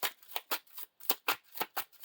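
Playing cards being shuffled back into an encounter deck during a Lord of the Rings card game, a quiet series of about a dozen quick crisp riffling flicks in an uneven rhythm, close by, with no talking.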